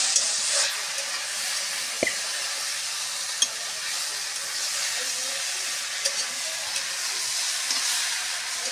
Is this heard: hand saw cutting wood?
no